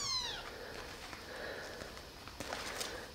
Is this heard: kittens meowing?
yes